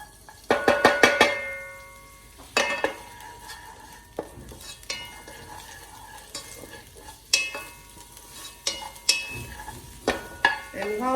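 Onions, garlic and ginger sauté in a pan for a vegetable stir fry with carrots and cauliflower, a soft sizzle under repeated clinks and scrapes of a utensil stirring against the metal.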